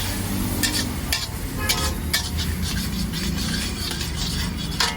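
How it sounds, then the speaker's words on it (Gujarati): Spoon stirring and mixing food in a pan as a special chutney is worked in, with repeated scraping strokes over a steady low sizzle throughout, close and moderately loud. "હવે પ્રોપર રીતે મિક્સ કરી લઈશું."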